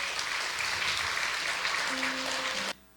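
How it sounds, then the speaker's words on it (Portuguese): A church congregation applauds during a service, producing a dense, even wash of clapping that carries steadily and then cuts off abruptly near the end. "Aplauda o Senhor por isso."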